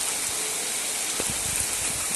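Summer storm rain pours heavily, a continuous loud hiss with scattered close patters and one sharper splash near the middle.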